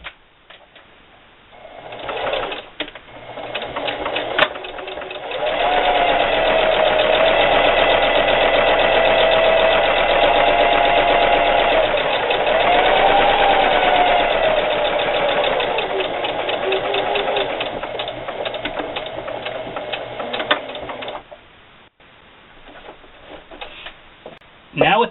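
Sewing machine backstitching fabric for a holiday gift bag, running slowly: a close, steady mechanical whir sustained for about fifteen seconds, with faint speech heard before and after the stitching.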